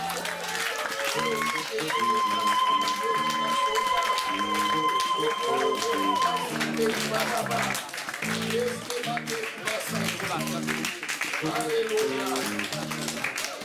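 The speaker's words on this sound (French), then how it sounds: "Acclamez pour le Seigneur." A church congregation claps and cheers for the Lord, steady applause mixed with music and a voice speaking over it.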